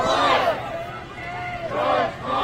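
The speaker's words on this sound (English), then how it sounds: "You hear chants of George Floyd" A large street protest crowd on Portland Avenue in Minneapolis chants loudly in rising and falling waves of massed voices, close and filling the scene, with shouting swelling at the start and end.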